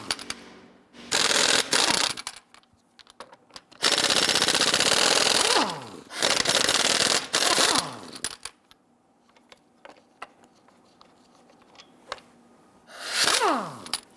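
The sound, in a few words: socket ratchet loosening and removing Jeep wheel lug nuts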